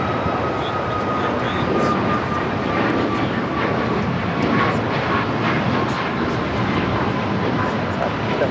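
An Airbus A320 airliner, Legionnaire Flight 770 from Bentonville, Arkansas, arrives at Los Angeles International Airport with a steady, broad jet roar that holds throughout, close and loud against airport ambience.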